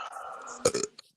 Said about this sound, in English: Excuse me, and I'm going to burp.